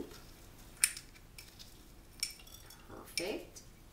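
A spoon scoops hard peppercorns into a pickle crock, giving a few sharp clinks and scrapes separated by quiet pauses.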